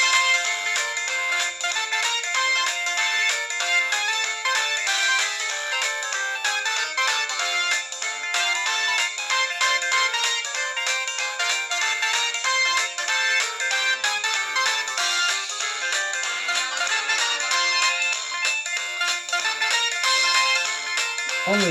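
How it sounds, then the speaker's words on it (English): Old polyphonic ringtones play one after another from an LG VX8300 cell phone, bright electronic melodies running continuously and clearly for over twenty seconds. "the LG VX8300 has these cool old ringtones"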